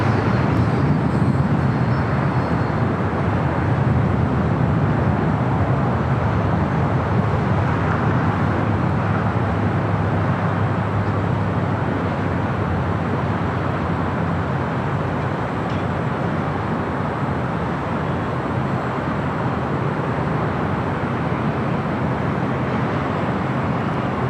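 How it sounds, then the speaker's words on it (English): An Alaska Airlines jet takes off from LAX runway 25 right, a loud, steady broadband engine roar that fills the whole stretch without letup, with no voices over it. "runway 25 right, clear for takeoff"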